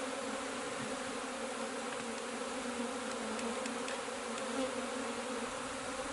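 Agitated honeybees buzz around a nuc hive, a dense continuous droning hum at steady, moderate loudness with no pauses.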